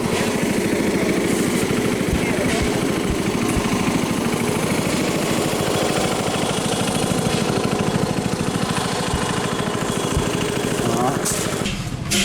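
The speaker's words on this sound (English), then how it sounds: "Ford motor." An old Ford motor runs steadily at an outdoor show, a loud rapid chugging that continues without a break for the whole stretch, with crowd noise mixed faintly underneath.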